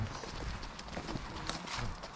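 Horses walk past on a forest path in Gosford Forest, Markethill, County Armagh, their hooves clip-clopping in a steady rhythm against faint outdoor background noise.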